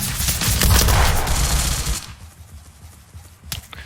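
Gunfire sprays in a Surviv.io clan war battle-royale match. A dense burst of rapid shots rattles loud and continuous for about two seconds, then gives way to quieter ambience and a single later shot.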